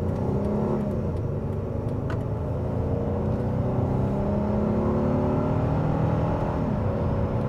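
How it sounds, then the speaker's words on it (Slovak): A Kia Opirus car accelerates onto a main road, its engine droning loudly and steadily with a rising tone, heard from inside the cabin. "No a vyskúšame si trocha akcelerácie, ak sa ideme pripojiť na hlavnú cestu."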